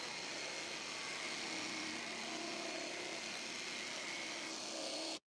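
An Evolution R90JGS-Li cordless jigsaw cuts a rounded edge through 18mm MDF, a steady, fairly quiet buzzing rasp that runs evenly for about five seconds and then stops abruptly.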